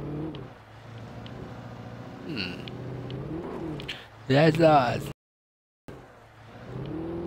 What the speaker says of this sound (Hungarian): hallani akarom, hogy durusul a motor